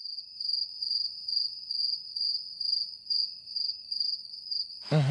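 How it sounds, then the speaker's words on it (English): Crickets chirp as a steady, high pulsing trill, clear and alone, broken at the very end by a sudden louder sound. "And crickets."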